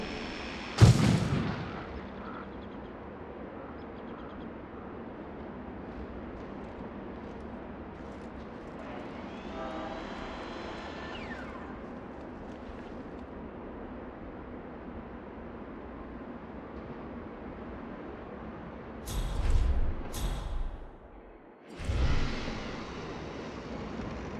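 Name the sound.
explosion from the video game Hitman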